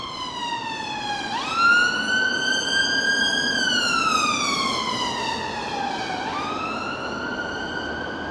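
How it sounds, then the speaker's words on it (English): A loud ambulance siren wails and yelps close by, its pitch sweeping up and down continuously as the vehicle passes, with steady traffic rumble underneath. "Ambulance."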